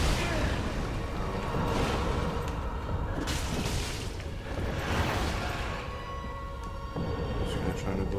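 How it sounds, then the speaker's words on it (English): An explosion in the Dark Souls video game erupts as a loud, sustained rumbling boom amid ongoing battle noise, with a few swelling bursts and a person talking over it. "that's just an explosion."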